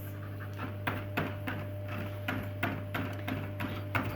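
A pet dog pants steadily in a sewing room, quick rhythmic breaths heard close and moderately faint over a constant low machine hum.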